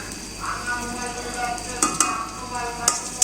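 Chopped onions dropped into hot oil in a pan, a soft steady sizzle with a few sharp clinks and stirring scrapes toward the end.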